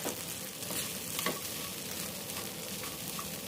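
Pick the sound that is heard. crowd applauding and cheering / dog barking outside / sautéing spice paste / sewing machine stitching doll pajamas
sautéing spice paste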